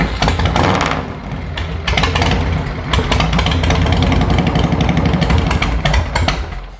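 A motorcycle engine, fired up during a charging-system check, runs loud and close at a rough idle with a steady pulsing beat and slight revs near the start.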